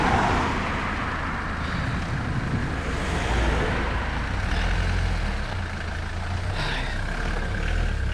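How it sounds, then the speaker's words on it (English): Road traffic near Marlborough: a continuous roar of cars and trucks passing close by, with wind noise and a heavy vehicle rumbling through, and no voices. "see the cars coming and going."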